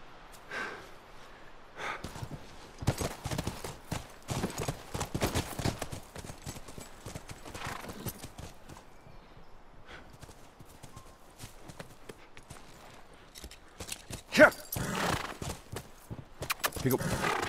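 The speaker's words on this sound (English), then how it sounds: "Come on, back to the horses." Horses in The Last of Us video game give irregular hoof clip-clops, snorts and breathy huffs at close range, with occasional louder bursts near the end.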